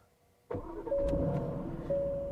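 An Aston Martin Vantage engine fires up via its start-stop button, a sudden crank and catch after a quiet moment, then settling into a steady, close idle.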